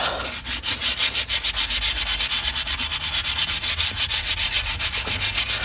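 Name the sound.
hand sanding a van part with 220-grit sandpaper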